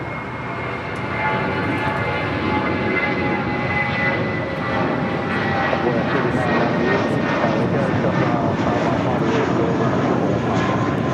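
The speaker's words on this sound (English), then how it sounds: "It's Delta Airlines Flight 2382 coming in from Kansas City on the 737-800." A Delta Boeing 737-800 arriving at LAX, its engines a steady, loud broadband roar with whining tones that holds for the full stretch and stays close.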